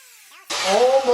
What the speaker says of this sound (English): Now I can maybe take the planer down one notch